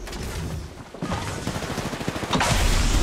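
Rapid bursts of gunfire from the video game Apex Legends, several close shots in quick succession followed by a louder, denser volley near the end.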